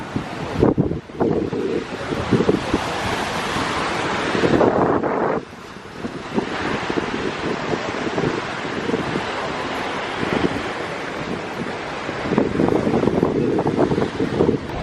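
Strong wind buffets the microphone at Copacabana beach in Rio de Janeiro, roaring steadily over the constant wash of ocean surf, with gusts rising and dropping briefly partway through and no talking.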